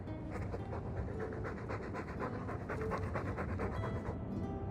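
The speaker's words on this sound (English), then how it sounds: "All that noisy dog breath" Dog panting in Dragon Age 2, a steady run of quick rhythmic breaths, close and continuous for the whole stretch with no talk over it.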